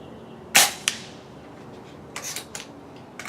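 An AirForce Condor .22 caliber air rifle shooting slugs: one sharp, loud crack followed by a quick second snap, then fainter metallic clicks and handling noises a moment later.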